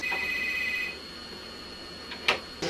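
A telephone rings while someone places a call, one bright electronic ring tone at the start followed by a quiet pause and a couple of short clicks.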